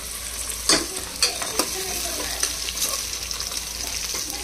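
Onion, potato and grated coconut fry in a pan for Khandeshi khichdi, giving a steady close sizzle broken by several sharp spoon-stirring scrapes and knocks, with no talking.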